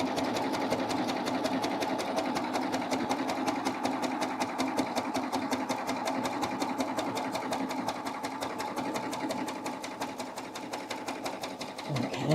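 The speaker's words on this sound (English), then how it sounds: "I'm just going to sew off the edge" A sewing machine stitches along the edge of fabric with piping in the seam, a rapid, even mechanical chatter running continuously at close range, slowing briefly at the very end.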